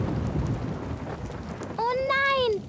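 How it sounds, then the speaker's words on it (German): Rain and rumbling thunder of an approaching storm on a cartoon farm, a steady broadband wash throughout with a brief harmonic tone, like a bird call or whistle, rising over it near the end. "Oh nein, da zieht ein Gewitter auf."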